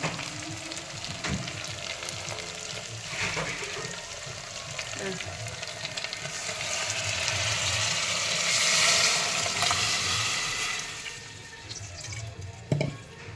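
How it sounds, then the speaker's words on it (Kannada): Rice goes into a hot pot for ghee rice and fries with a crackling sizzle that swells louder midway before settling. Scattered knocks and clatter come from stirring, with faint voices at times. "ಇವಾಗ ನೋಡಿ ರೈಸ್ ಹಾಕ್ತಾಯಿದ್ದೀನಿ."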